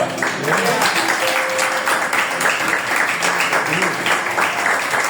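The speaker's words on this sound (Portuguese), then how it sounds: "Quem pode crer nisso, aplaude e glorifica o Senhor" A church congregation applauds and praises during a service, loud continuous clapping from a crowd mixed with shouted voices and a brief sustained tone.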